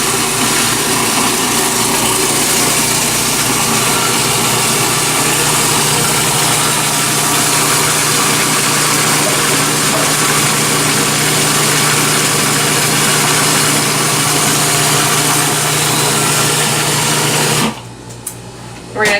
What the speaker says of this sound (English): you basically want to stream it into the food processor and see what the consistency is like.